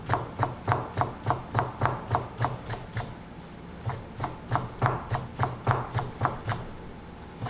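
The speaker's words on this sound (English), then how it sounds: "when you cut them diagonally, you're not wasting a bunch of onion" A knife slices diagonally through green onions on a cutting board in quick, regular, close-up chops, two bursts of evenly spaced cuts separated by a short pause.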